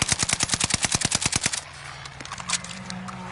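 A rapid burst of gunfire rips out in an evenly spaced automatic string of loud, close shots for about a second and a half, then gives way to a lower rumble with a few scattered reports.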